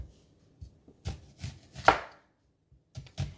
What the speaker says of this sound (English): I'm gonna cut my onion up here